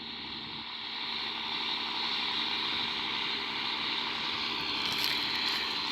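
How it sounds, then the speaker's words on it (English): A John Deere 6620 tractor pulls a Lemken four-furrow plough through a field, its engine a steady, even drone at moderate distance with no break in the sound and no talk. "this is our John Deere 6620 with our Lempkin plough just ploughing away"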